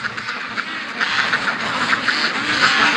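A group of ducks in a foggy yard quacks steadily, overlapping nasal calls at close range with no voices over them.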